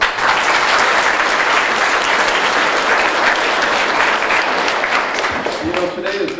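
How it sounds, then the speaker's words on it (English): A crowd at a DARE graduation ceremony gives sustained, dense applause for Officer Knight, loud and steady throughout, easing slightly toward the end as a voice begins. "A big round of applause for her."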